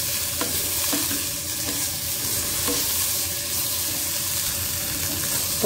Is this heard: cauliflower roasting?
yes